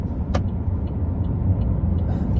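A car drives past at moderate distance, a steady low road rumble and tire hiss with a brief higher click early on, no talking.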